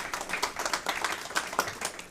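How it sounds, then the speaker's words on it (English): A small room at a school district board meeting breaks into a round of applause, many hands clapping in a quick uneven patter at moderate volume. "We give her a round of applause"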